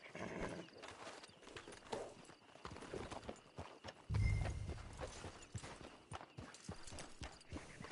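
A horse walks in Red Dead Redemption 2 with a soft clip-clop of hooves under game ambience, and a heavier thud partway through.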